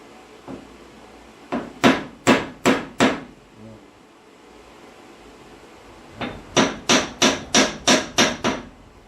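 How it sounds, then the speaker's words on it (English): Sharp metallic hammer strikes on a boat trailer wheel hub in two bursts, four blows then six, steady rhythm, close and loud with a pause between. "And I need a regular hammer."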